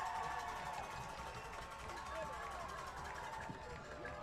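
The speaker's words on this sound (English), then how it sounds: "Now listen to this crowd." Crowd noise fills the stands at a Mid-Illini high school football game, Metamora at Washington, a steady dense roar of voices and babble held at even loudness throughout.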